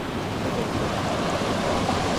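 Water from a large, very cold spring on Mount Banahaw rushes in a steady, dense wash, loud and close with no pauses and no voices.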